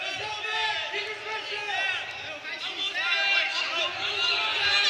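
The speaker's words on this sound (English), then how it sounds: "Good crowd on hand here for senior night. Making a lot of noise, cheering on both squads' teams here." Crowd at a college wrestling senior night between Clarion and Buffalo, a lively hubbub of cheering and shouting voices with whoops and squeaks, continuous and fairly close throughout.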